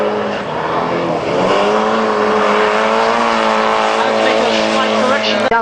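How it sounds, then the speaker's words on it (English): Super Pro race car at Lydden Hill, engine revving hard with a clutch kick, a loud sustained high-pitched roar under continuous commentary, ending in a sharp sudden burst. "Bit of a clutch kick."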